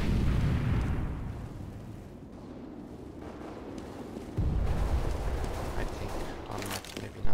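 An incendiary grenade thrown in CS:GO on the Nuke map bursts into a roaring, crackling fire that swells loud and steady, with a second burst of flame near the end under the game's background noise.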